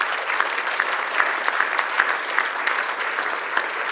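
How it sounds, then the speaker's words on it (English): Sustained audience applause at a State of Democracy community event, a dense, steady wash of many hands clapping fairly close, with no talk over it. "I'm going to ask that you give yourself a round of applause for sponsoring this event"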